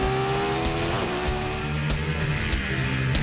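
A Ducati 848 motorbike races around the Pannonia Ring circuit, engine wailing at high revs with rising and falling pitch as it shifts gears, loud and close, with faint tire noise.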